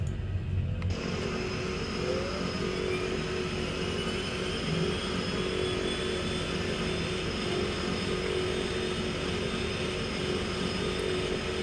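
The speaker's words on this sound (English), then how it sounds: "we'll turn the inlet pull separators on and fire up the second motor." The second engine of an Embraer EMB-110 Bandeirante is spooling up in Microsoft Flight Simulator 2020, heard as a steady turboprop whine and drone with rising tonal hums and a sharp shift at the start.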